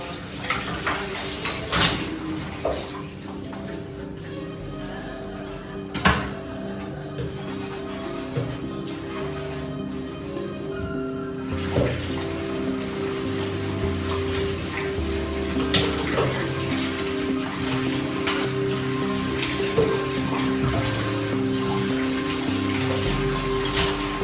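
Dishes being washed under hot running tap water, a steady splashing rush with scattered clinks of pots and cutlery throughout, close and fairly loud, no voices.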